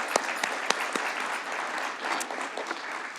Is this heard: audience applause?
yes